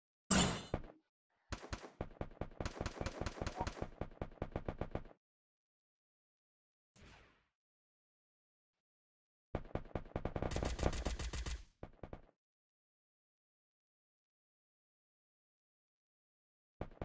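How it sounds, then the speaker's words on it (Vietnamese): Automatic and single gunfire in the Free Fire battle royale game, loud bursts of rapid shots in two long volleys with a brief shot between, separated by silence. "Quá trời bắn này"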